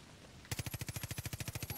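Rapid automatic gunfire from a weapon in the video game Far Cry New Dawn, a fast, loud burst of evenly spaced shots starting abruptly after a brief quiet moment and continuing steadily to the end.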